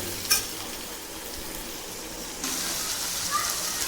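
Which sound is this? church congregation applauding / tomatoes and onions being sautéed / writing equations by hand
tomatoes and onions being sautéed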